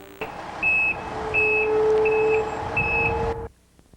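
A delivery truck's reversing alarm beeps steadily, four or five evenly spaced tones over a low idling engine rumble, fairly close.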